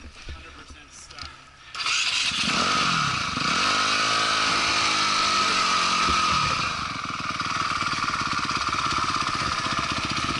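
Dirt bike engine at a hare scramble race, throttle stuck wide open, roaring loud and steady at high revs after a quieter start, with a brief pitch swell midway.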